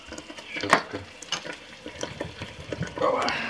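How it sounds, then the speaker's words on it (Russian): Butternut squash and broccoli cream soup bubbles in a pot, with irregular pops and splattering bursts of varying loudness close by, and no one speaking. "у нас суп практически уже готов. Булькается, брызгается."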